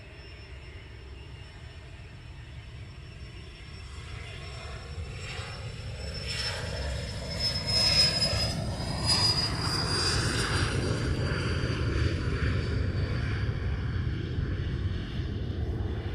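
Propeller aircraft engine departing Luton Airport in fog, rising from a distant hum to a loud steady roar with a high whine, then holding as it climbs past.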